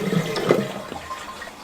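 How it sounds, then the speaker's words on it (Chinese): A toilet flushes after its worn cistern valve seal is refitted, a steady gushing rush of draining water, close and fairly loud, with no talk. "排一下水，看水能不能止住。"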